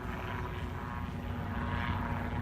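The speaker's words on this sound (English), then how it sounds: "Plane just come out of, I think, Gamston." Propeller plane droning steadily overhead near a level crossing after leaving Gamston, a continuous low engine hum at moderate distance with no voices.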